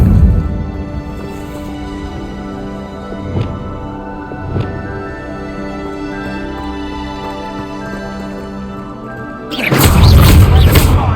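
A Confringo spell explosion in Hogwarts Legacy: a heavy booming burst strikes near the end after a long stretch of sustained orchestral score, with a couple of faint thumps earlier.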